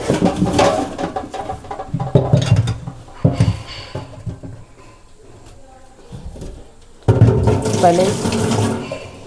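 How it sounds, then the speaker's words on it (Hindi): Tap water runs and splashes in a sink while tomatoes are washed by hand, bursts of close, loud gushing with wet clatter, easing to a quieter trickle before surging again. "तो अब कर लेते हैं टमाटरों की साफ़ सफाई"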